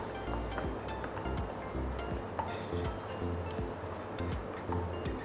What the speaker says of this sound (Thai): ก็ทำการคั่วจนได้กลิ่นหอมนะครับ